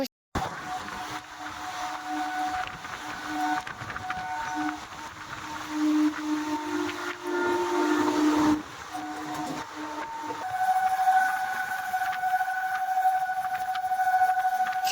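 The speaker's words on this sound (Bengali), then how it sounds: "ট্রেন যাবে মনে হয় এখন" A train whistle sounds long and loud, holding steady tones that shift in pitch, over the rumble of the train going by.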